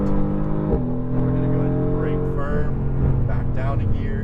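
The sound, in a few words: Mercedes AMG GTR engine accelerating on track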